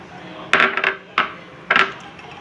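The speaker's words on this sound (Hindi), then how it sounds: "ये अब इसमें डाल रही हूँ।" Chopped large onion is dropped into a bowl of ground ginger mixture in a home kitchen for makki ki roti, giving three sharp clattering hits against the bowl, close and loud.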